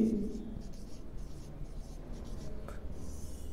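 Hand writing of colour names, a pen or marker scraping softly across a surface in short strokes, faint and close, with quiet background hiss and a brief squeak near the end.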